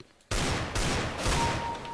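Desert Eagle pistol fire in the video game Counter-Strike: Global Offensive, a sudden loud gunshot bursting out of near silence, followed by a second shot and a sustained noisy game soundscape.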